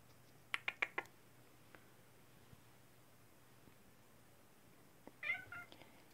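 A domestic cat in a quiet house gives a quick run of four short meows, then after a long near-silent pause a longer, more drawn-out meow with a few faint trailing chirps; close and fairly soft.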